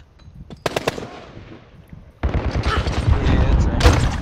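AK rifle fire in the video game Call of Duty Modern Warfare: sharp scattered shots, then a loud sustained burst of rapid automatic gunfire.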